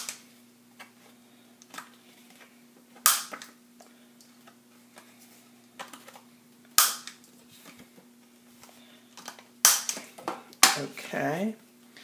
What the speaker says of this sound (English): I'm just going to round the corners here a little bit.